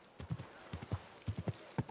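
Horse hooves clip-clop in the medieval video game Kingdom Come Deliverance 2, a close, moderately loud series of hollow knocks in an uneven walking rhythm with no speech over them.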